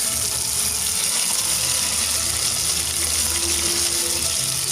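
Mustard seeds, urad dal and chana dal fry in hot sesame oil, giving a dense, steady sizzle with faint crackling pops close by and no talk.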